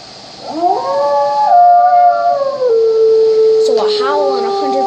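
A wolf in the video game WolfQuest howls loudly and alone near a den, one long sustained tonal howl that slides up, holds, then steps down, followed by a second wavering howl.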